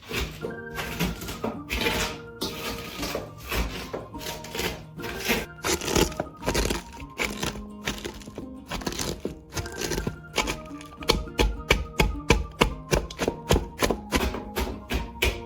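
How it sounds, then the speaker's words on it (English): Salted cabbage pounded by hand for sauerkraut, a steady series of dull thuds and crunchy impacts that speed into a regular, close rhythm toward the end. "I'm just gonna smash the cabbage, pushing the salt into it"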